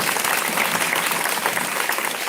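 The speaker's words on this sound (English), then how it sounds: "let us give her a round of applause once again" Dense, steady applause from a large audience at a talent event, many hands clapping continuously and loudly throughout with no pauses.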